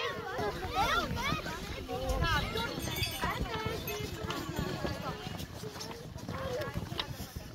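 Horse hooves clip-clop at a school winter outing at a horse farm as the horse is turned around, the steady clopping running under near, busy children's and adults' talk throughout.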